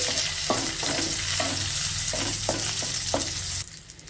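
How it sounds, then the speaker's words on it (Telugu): Curry leaves and cumin seeds fry in a pan with steady sizzling and crackling, broken by several sharp spatula scrapes; the sizzle drops off abruptly near the end, leaving a brighter hiss. "చివరగా ఒక 1/2 టీ స్పూన్ జీలకర్ర వేసేసుకొని జస్ట్ లైట్గా ఫ్రై చేసేసుకోవాలి"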